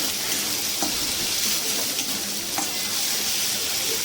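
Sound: ginger-garlic paste being fried and stirred in a pan

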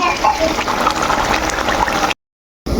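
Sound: pouring hot water into pot

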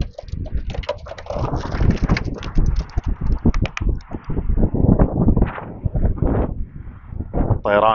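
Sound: racing pigeons released and flying

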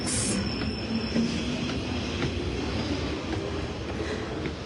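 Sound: train passing on rails

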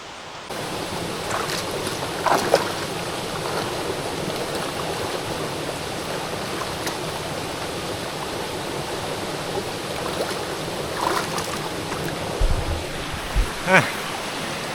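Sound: waterfall

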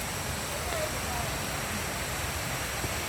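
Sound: rushing waterfall on a mountain stream

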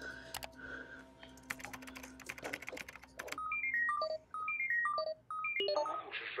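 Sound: telephone number being dialed

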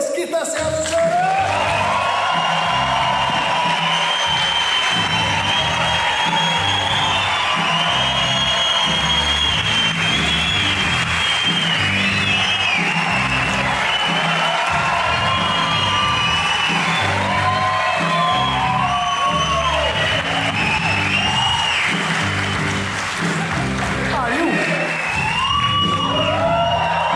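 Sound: audience applause and cheering for Otávio Mesquita

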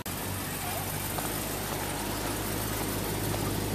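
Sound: BMW M3 car driving by

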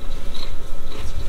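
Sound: crunching habanero spicy popcorn

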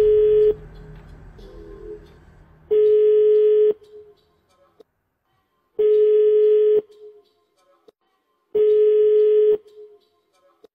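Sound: telephone call dialing tone

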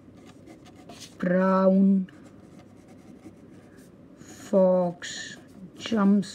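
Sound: Hero 329 fountain pen writing on paper

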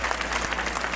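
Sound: congregation applauding to acclaim God

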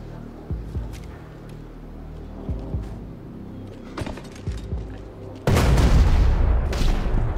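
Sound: grenade launcher firing in video game Max Payne 3

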